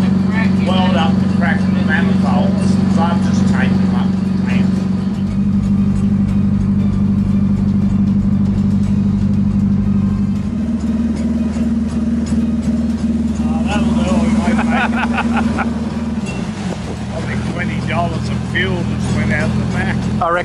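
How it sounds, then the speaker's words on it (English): An 8-cylinder Detroit engine with welded exhaust manifolds runs at a steady idle, a loud constant low drone that shifts slightly in pitch partway through, heard under continuous talking from people nearby. "So this is a 8-cylinder Detroit"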